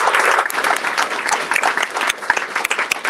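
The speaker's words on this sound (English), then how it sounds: "Give him a round of applause." Audience applause breaks out at a press conference, a dense crowd of hand claps filling the room steadily for a few seconds with no voices over it.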